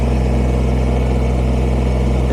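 Kubota BX23S compact tractor engine running with logs nearby, a loud, steady, close drone with a constant low hum that holds level throughout, alone with no voices.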